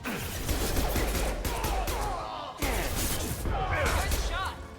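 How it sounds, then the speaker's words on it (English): Gunfire in Mass Effect 2 aimed at the player, a dense, continuous run of shots with scattered impacts and game effects, carrying on under a speaking voice and pausing briefly midway. "Oh, who's shooting us?"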